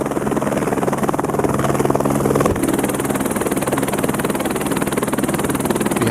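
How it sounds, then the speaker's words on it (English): Helicopter in flight over the Canadian High Arctic, with a loud, close, continuous rotor and engine drone that stays steady from start to finish without any talking. "In the afternoon we take another helicopter flight to the landing strip just inland from the base."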